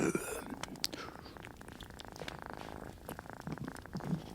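A cat purrs close up with a steady, continuous rumbling rhythm and a few faint rustles, and no voice is heard.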